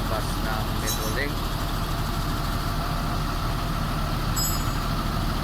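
A Metrolink bus engine idles steadily at a roadside vulcanizing shop in North Sagaray, Bulacan, with a flat tire removed; a continuous low rumble with faint clanks and background voices throughout.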